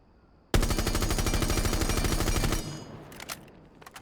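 Fully automatic gunfire in the shooter game Rainbow Six Siege, one rapid unbroken burst of about two seconds, loud and close, then a short ringing tail and a few faint clicks and shuffles.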